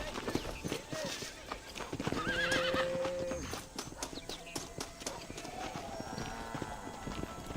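A horse in Red Dead Redemption gives a loud whinny amid rapid clip-clopping hooves, with game sounds and brief speech mixed in around it.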